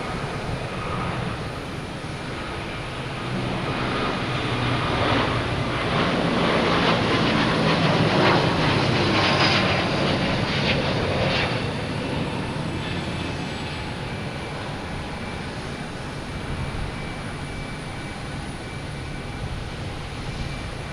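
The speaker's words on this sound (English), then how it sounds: "Here's Delta heading to Seattle, A321neo." A Delta Airbus A321neo jet at Boston Logan roars past at night, a loud broadband engine whoosh that swells to a peak in the middle and eases off, with a faint high whine throughout.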